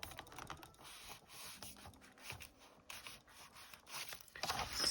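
Dry scraping and rubbing of a dirty bone folder pressed across paper layers in a junk journal, a close run of soft, uneven strokes with a few louder rasps near the end.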